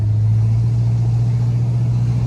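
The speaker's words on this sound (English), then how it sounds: "Got a nice strong sound coming out the back with that dual exhaust" A 1971 Oldsmobile Cutlass engine with dual exhaust idles or cruises with a steady, deep, loud rumble from start to finish, without pauses.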